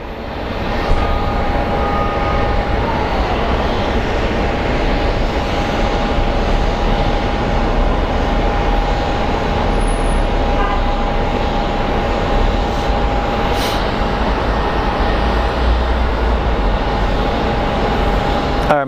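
A Southwest airliner takes off at Phoenix Sky Harbor International Airport, a loud, steady jet-engine roar that fills the whole stretch evenly without fading, with no voices over it.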